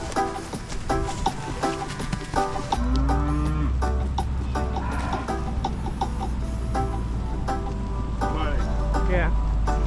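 Cattle on a farm, cows and a bull, mooing loudly and close by in long, drawn-out calls, with voices talking around them and a steady low rumble beneath.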